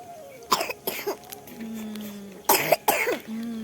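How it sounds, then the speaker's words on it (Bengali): Four sharp coughs in two close pairs, loud and near, separated by quiet stretches with a faint hum in the background. "দেখছো কি কাশি ধরছে"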